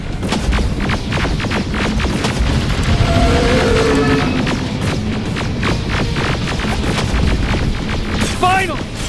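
Continuous loud gunfire and booming explosions from combat in the video game Terminator: Resistance, a dense barrage of rapid shots layered with heavy blasts, with a voice shouting over the din.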